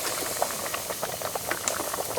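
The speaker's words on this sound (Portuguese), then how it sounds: "tá fervendo bastante." Homemade soup holding rice and pasta at a vigorous rolling boil in a pot, continuous dense bubbling and popping heard close and alone, with no talk.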